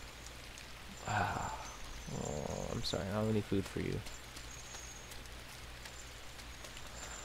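Steady rain falls outdoors in a soft, even hiss that runs through the whole stretch, while a person talks briefly over it in the middle.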